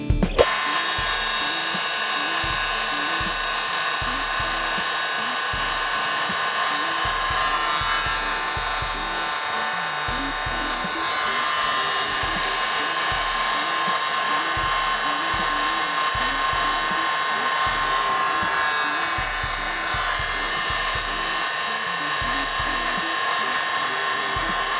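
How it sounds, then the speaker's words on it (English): A heat gun blows a steady, loud hot-air whine for about 25 seconds, shrinking heat shrink tubing on drone wiring during a close-up build, with no talking over it. "I'm gonna sit just like that and then heat shrink that."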